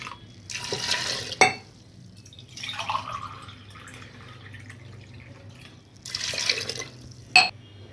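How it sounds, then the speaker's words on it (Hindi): Three glasses of water pour in three separate splashing bursts into a pressure cooker of tomato rice, each ending with a metallic clink, with quiet pauses between them. "अब 3 गिलास पानी डाल करके कुकर की सीटी ले लेंगे।"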